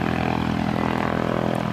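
Propeller aircraft at Aurora Municipal Airport, a steady engine drone held at a constant level through the whole short stretch with no voices.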